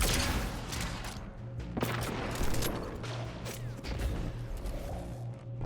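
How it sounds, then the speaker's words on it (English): Gunfire in the shooter game Destiny 2, with dense overlapping weapon blasts, a rocket launch among them, and mechanical clatter in a continuous loud barrage. "apparently I'm going to try and use a rocket from about a mile away"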